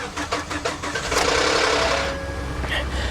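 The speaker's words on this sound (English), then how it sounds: "Don't worry, that rattling is normal. It's a Ford." A Ford engine running at an auto auction yard with a rattling, ticking mechanical clatter, a rapid rhythmic tapping followed by a steadier, louder idle hum nearby.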